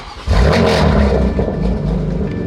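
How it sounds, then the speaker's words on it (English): A BMW M4 Competition engine roars up to a loud, steady high-rev drone on a dyno that holds for a couple of seconds, close and continuous. "it's time to throw this thing on the dyno"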